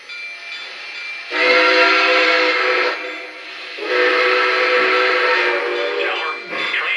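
A model NKP Berkshire steam engine moves off, giving two long, loud whistle blasts separated by a short gap, with a third whistle starting as the clip ends, over a faint running hum.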